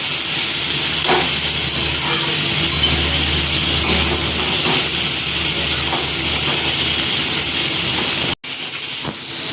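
Potatoes and onions frying together in a pan for a Bengali curry, giving a loud, continuous hissing sizzle close up for several seconds, broken by a sudden brief cut near the end, with no voices.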